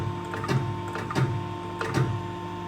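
A press crimps a Mercedes E-Class W213 air spring, with three evenly spaced mechanical thumps over a steady machine hum, close and moderately loud.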